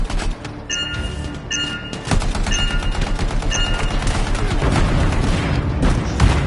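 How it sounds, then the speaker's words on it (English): Explosives detonate in the Anthem video game, Legion of Dawn content: a burst of heavy booms and crackling blasts follows a few beeping tones, then a loud sustained rumble of debris and destruction fills the rest. "I think the explosion destabilized the foundry"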